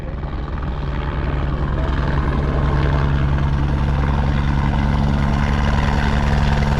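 A helicopter arriving at a crash site on a Dakar Rally marathon stage, its rotor and engine a loud, steady throbbing drone that builds slightly and holds close throughout, with no talking.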